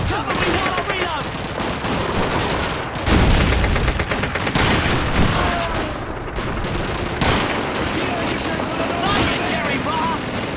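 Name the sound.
gunfire in Call of Duty 2 video game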